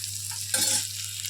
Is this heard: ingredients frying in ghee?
yes